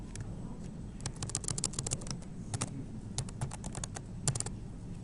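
Fingers type on a computer keyboard at an R programming workshop, soft clustered keystroke clicks in irregular bursts over a faint room hum, fairly quiet and close.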